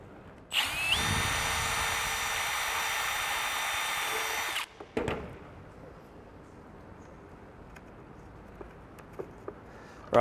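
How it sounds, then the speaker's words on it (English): A power drill whines steadily for about four seconds while drilling rivet holes to install a snorkel on a Ford Ranger, then stops, followed by a few light clicks and handling knocks in a quiet room. "once you've got your 3 holes drilled with your rivets sitting in there"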